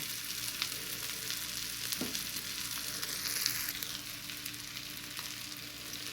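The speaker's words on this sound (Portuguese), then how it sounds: "Deixei a linguiça ficar bem fritinha e a cebola" Calabresa sausage and onion frying in a pan, a steady close sizzle with faint crackles and a brief utensil scrape, no voices.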